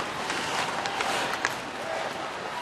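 A hockey crowd on its feet at the Coliseum during a PWHL game, a broad roar of cheering and clapping with scattered shouts, a commentator talking over it.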